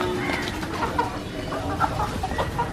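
Chickens cluck softly in short scattered calls over a low background murmur of a yard where they are being fed.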